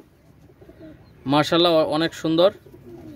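Pakistani Teddy pigeons coo in a short burst of soft, throaty, rolling calls at close range, with someone speaking briefly over them.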